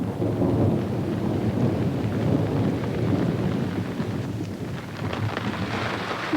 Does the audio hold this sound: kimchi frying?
no